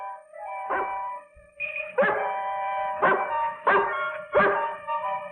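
A dog barks and yips in a film scene, five sharp barks spaced about a second apart over a steady background tone, fairly close and clear.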